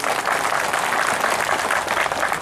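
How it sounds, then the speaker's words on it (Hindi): Loud, dense applause from a large crowd at an outdoor BJP political rally, a continuous rolling clatter of many hands with no break. "माणिक बाबू, तालियां सुनिए।"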